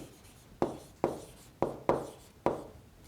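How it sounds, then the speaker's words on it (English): A marker writes on a board while math work is being solved, five crisp separate strokes or taps at irregular spacing, close and fairly quiet with no talking. "So I'm just going to write that down."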